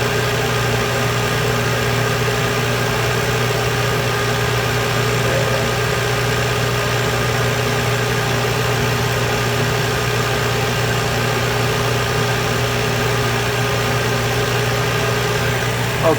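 A laser engraver's cooling fan runs in a constant, loud, even drone with a steady low hum and no change in pitch for the whole stretch, with nothing else heard.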